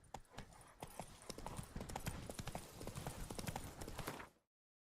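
Horse hooves clip-clopping in the game The Witcher 3: Wild Hunt, a quick steady gallop of close, distinct hoof strikes that runs evenly and then cuts off abruptly before the end.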